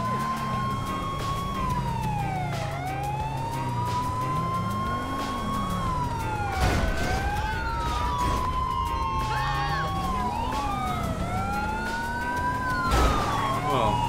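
A police siren in GTA 5 wails continuously, its pitch sweeping up and down in long cycles, loud and close, with engine rumble beneath.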